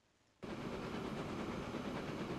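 A loud train rumbles into a station in the Transport Fever game after a quiet start, its broad, steady clattering roar holding close and continuous for the rest of the clip.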